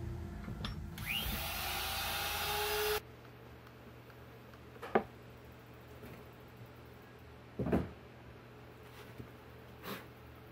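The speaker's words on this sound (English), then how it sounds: "I'm going to go ahead and get that routed out" A wood router cuts a neck slot into a guitar body: a loud, steady whining roar for about three seconds, which then stops. A quiet workshop follows with a few faint knocks and clicks.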